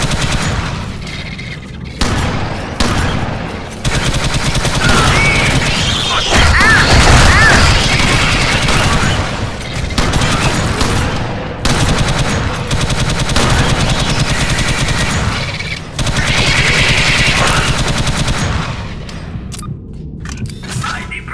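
Rapid machine gun bursts in the Alien Swarm video game rattle loudly and almost continuously, broken by short pauses and mixed with crashes and booms.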